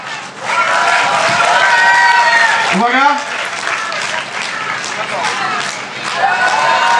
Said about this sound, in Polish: Może jakieś brawa?